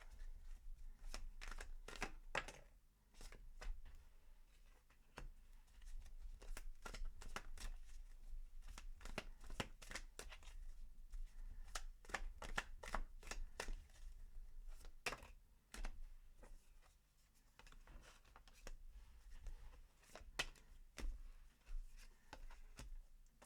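Tarot cards shuffled steadily and close, a dense run of crisp riffling flicks and slaps going on nonstop and without any voices.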